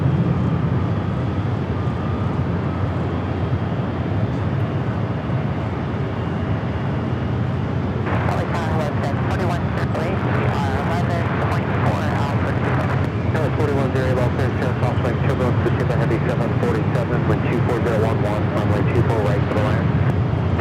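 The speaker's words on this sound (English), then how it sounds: "Up next, Alaska flight 505 coming up from Seattle, the 737 at" Alaska Airlines Boeing 737-900ER jet taking off at LAX, a steady loud engine roar that swells into a harsher, rumbling thrust about eight seconds in and holds to the end, with faint airport radio talk underneath.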